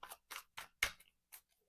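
Tarot card deck being shuffled by hand, five or six quick, crisp papery bursts in an uneven rhythm, close and clear with no talking.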